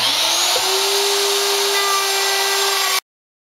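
A hybrid pantorouter with a router spinning at a steady high whine cuts a large wooden tenon, the loud continuous motor tone holding evenly before cutting off abruptly.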